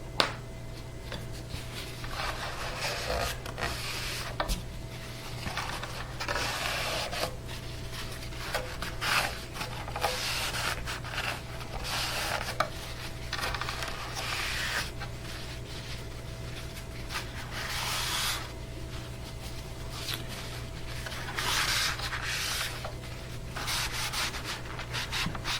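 Cloth rubbing a thin finish onto a custom ES-335-style guitar body and wiping it off, a soft, continuous scrubbing swish in uneven strokes close by, over a steady low hum, with no voice.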